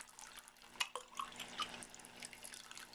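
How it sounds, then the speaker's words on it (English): Water flows into a container being filled to start a siphon, heard as light trickling, splashing and dripping at close range, faint and uneven with a few sharper drops. "Filling up the container and watching for the siphon flow."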